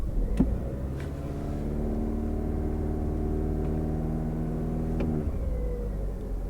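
A Lexus UX hybrid's engine fires up from cold and settles into a steady idle, a low even hum with tonal harmonics held for several seconds before easing off, without speech.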